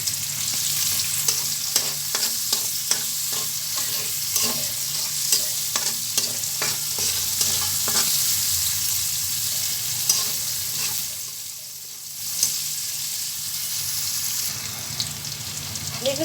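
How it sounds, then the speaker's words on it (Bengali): Chopped onion and garlic fry loudly in oil in a wok, a steady broadband sizzle with frequent scraping stirs and clicks, continuous and close throughout with a brief dip near the end. "এই একই কড়াইয়ে আমি পেঁয়াজ এবং রসুন কুচি অ্যাড করে দিচ্ছি। এটাকে আমি একটু লাল লাল করে ভেজে নিব।"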